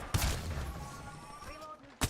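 Gunfire from a battle royale video game: a sharp shot burst near the start and another at the end, with a faint electronic hum and tonal game sounds between them.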